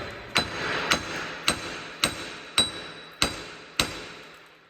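A hammer strikes the front wheel bearing hub of a 2006-2018 Toyota RAV4 in seven evenly spaced metallic blows, each a sharp, ringing clank, close and loud with no talking.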